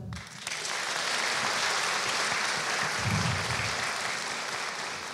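Hall audience at a university graduation ceremony applauding the professors present, dense sustained clapping that swells in quickly and holds loud and even throughout.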